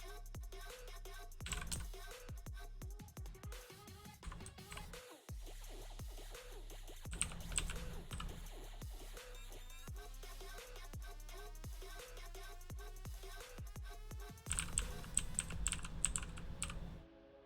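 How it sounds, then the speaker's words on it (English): A computer keyboard clacks in dense, fast bursts of typing throughout, close and crisp, with short pauses between runs of keystrokes during a development session. "So much keyboard clacking."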